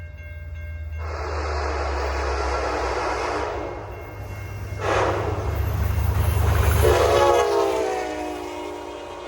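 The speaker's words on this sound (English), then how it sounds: "Luckily enough for us, Piedmont Train 74, a train we were not planning on seeing, was about an hour delayed" An Amtrak Piedmont passenger train, Train 74, passes the Long Ferry Road crossing in Spencer, North Carolina, sounding two long loud horn blasts over a deep steady rumble of wheels and engine that swells as it goes by.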